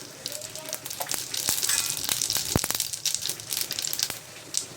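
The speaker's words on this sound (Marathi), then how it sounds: "मोहरी तडतडलेली" Mustard seeds spluttering in hot oil for a tadka, giving a steady sizzle punctuated by sharp, irregular pops and crackles, close and moderately loud.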